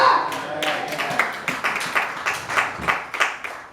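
A church congregation claps together during a Sunday service, sharp rhythmic claps in a steady beat across the hall, close and fairly loud, with voices faintly mixed in.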